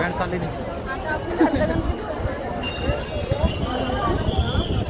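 A dense crowd of devotees at the Dagdusheth Ganpati darshan, a loud, close hubbub of many overlapping voices with occasional clinks and footsteps.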